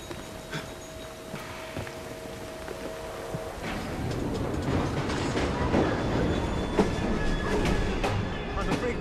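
A train rolls along in Assassin's Creed Syndicate, a steady rumbling clatter that builds and stays loud throughout, with faint sustained tones early on and scattered sharper clanks over the continuous rail noise.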